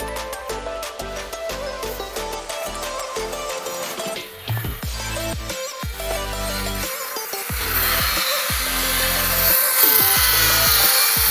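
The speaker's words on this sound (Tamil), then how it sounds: "ஆல்மோஸ்ட் எல்லாம் கன்ஸ்ட்ரக்ஷன் வேலை நடந்துங்குது காய்ஸ்." Construction work at a village temple: repeated sharp tool strikes and scraping in an irregular rhythm, joined later by a steadier grinding or power-tool whine building toward the end, fairly close and with no speech.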